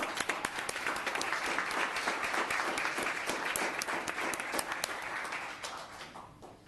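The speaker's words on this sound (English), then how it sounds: "Another round of applause." Round of applause at a town council meeting, many people clapping steadily and fairly loudly for several seconds before it tapers off at the end.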